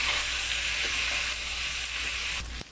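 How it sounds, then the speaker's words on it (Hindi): Chicken and spring onions fry in a pan with a loud, steady, hissing sizzle up close. A brief scrape near the end ends with a clunk as the sizzle briefly drops. "अब हम इसे जो है वो थोड़ा सा फ्राई करेंगे।"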